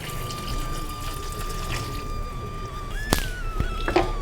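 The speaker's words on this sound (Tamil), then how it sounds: "இப்போ தண்ணி சேர்த்துலாங்க வேகத்துக்கு." Water poured into a simmering mixed vegetable curry for Pongal, a steady faint trickling stream running throughout with a few brighter splashy moments near the end.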